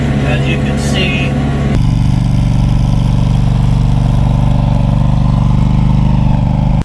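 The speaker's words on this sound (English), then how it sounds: "So I'm chisel disking. It's going really, really slow," A tractor pulling a chisel disk slowly across a Kentucky farm field, its engine droning loud and steady throughout with a brief shift in tone early on, no talk heard.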